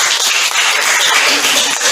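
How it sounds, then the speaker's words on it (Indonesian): Classroom applause for a presenting student group, dense steady clapping from many hands filling the whole moment without pause. "Kita berikan aplaus untuk"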